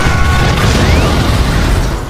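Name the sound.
gas explosion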